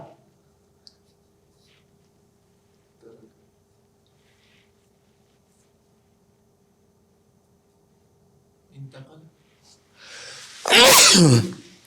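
A single loud, close sneeze bursts out after several seconds of near silence and faint background noise during a class.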